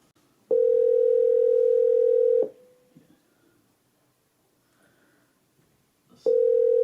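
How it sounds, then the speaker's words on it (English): Ringback tone of an outgoing phone call waiting to be answered: one long steady tone, a pause of near silence, then the tone starting again, clear and close with no talking. "I'm gonna see if I can get Breeze on the phone"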